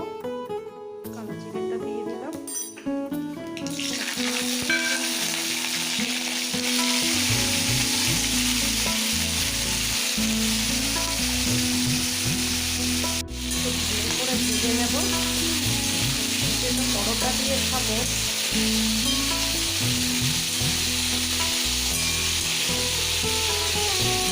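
Potato curry fries in a pan with green chilli and black cumin, giving a loud steady sizzle under repeated scraping and stirring of the spatula; a voice speaks briefly over the cooking.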